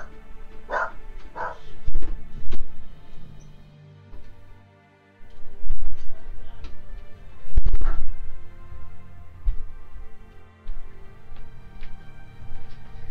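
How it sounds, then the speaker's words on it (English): Dogs bark in bursts at a middle distance behind a noisy indoor setting, a few separate sharp yaps rising over a steady low background hum with some knocks and shuffling. "You're just gonna hear like rap and dogs barking in the background"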